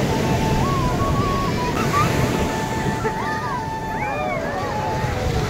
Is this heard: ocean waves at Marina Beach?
yes